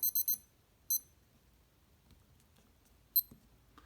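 Short electronic beeps from a SKMEI 1628 digital watch countdown timer: a quick burst of three high chirps, a single beep a moment later, then one more after a quiet pause.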